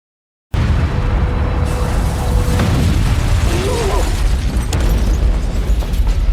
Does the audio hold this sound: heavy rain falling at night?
no